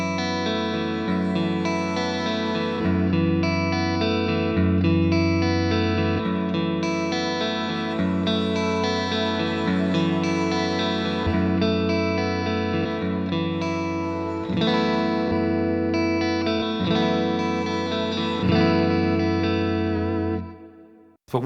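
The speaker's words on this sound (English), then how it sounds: "what you can hear is that the tails are being somewhat cut off and then replaced with the new reverb" An electric guitar runs through a Fractal Axe-Fx III, playing sustained chords drenched in reverb. The reverb tails are cut short and replaced at each channel switch, then the sound drops out abruptly near the end.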